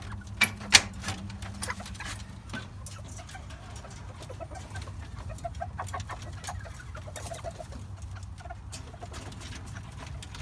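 A hen and two roosters in a coop cluck softly and intermittently, with a brief sharp call near the start, amid faint rustling and low background noise.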